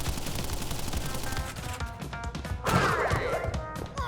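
Rapid bursts of gunfire from the Pinstripe boss in the Crash Bandicoot video game, dense and continuous over game music, with a louder crash-like impact near the end.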